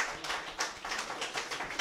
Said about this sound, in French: Ça mérite une bonne main d'applaudissements,